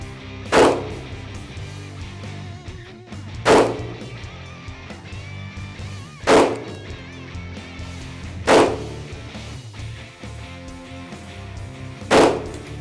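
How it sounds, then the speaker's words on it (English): Five sharp 9mm pistol shots ring out at a firing range, evenly spaced a few seconds apart, loud and close, with a low background hum between reports. "your weapon will be the 9mm. Your course of fire will be 5 rounds at the target of choice."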